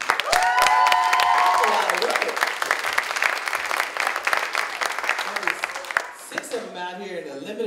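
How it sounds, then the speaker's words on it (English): An audience applauds a dance team with dense, sustained clapping that fills the space and then thins out toward the end, with a voice speaking over it in the final seconds. "give another round of applause for the International Dance Team"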